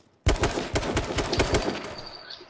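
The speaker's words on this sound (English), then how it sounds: "They both started shooting at me." Rapid automatic gunfire from a video game bursts in suddenly, a close, loud stream of overlapping shots that keeps going for about two seconds before thinning out.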